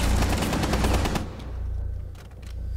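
Rapid automatic gunfire in the tactical shooter Rainbow Six Siege, a dense, loud burst of close shots for about a second, then fading into a lower rumbling tail.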